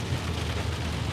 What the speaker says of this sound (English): So it is raining though now.